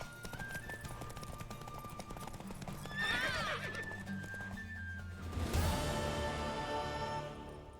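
Horse in The Witcher 3: Wild Hunt, hooves clip-clopping steadily with a whinny partway through, over a game music bed and ambient sounds.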